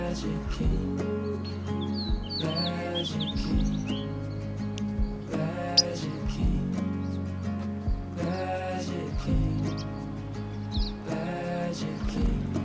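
Fox sparrow and white-crowned sparrow songs ring out in alpine habitat in Glacier National Park, bright repeated phrases recurring every few seconds over a steady low rumble of background noise.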